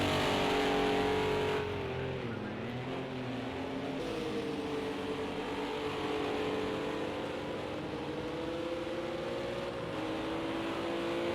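Race cars in a sim racing esports qualifier, heard as a continuous, layered engine whine of several cars at steady high revs with shifting pitch, moderately loud, with no talking.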